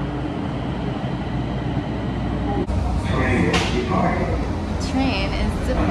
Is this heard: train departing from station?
yes